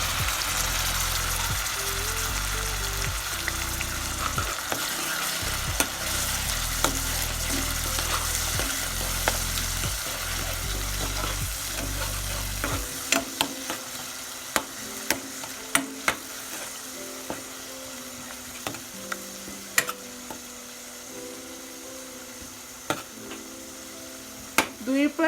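Onion and a ground spice paste frying in a pan for a banana flower curry, a steady loud sizzle with stirring clatter that eases into a quieter crackle with sharp utensil taps.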